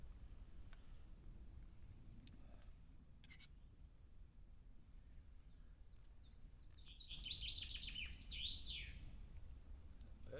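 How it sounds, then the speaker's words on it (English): Faint birdsong in a morning woodland camp, a few soft chirps early on and a brighter burst of calls later, over a low background rumble. "Bird song, man."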